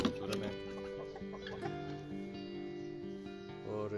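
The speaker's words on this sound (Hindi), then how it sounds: "ये ऊपर RIR के परिंदे हैं, ठीक है, मुर्गी हैं और मुर्गे हैं" Rhode Island Red hens and roosters on a small farm cluck and murmur steadily at close range, a busy layered flock chatter with occasional sharper calls.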